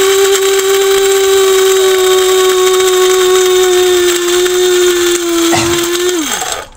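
An electric grinder crushing hard food into powder runs as a loud, steady motor whine that stays level before dipping with a brief rattle near the end and winding down as it is switched off.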